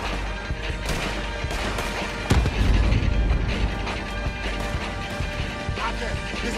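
Gunfire in Red Dead Redemption 2 during a battle in the Caribbean with cannons nearby: sharp shots crackle amid a chaotic mix, with one heavy boom midway and lingering rumble, while characters shout over the fighting.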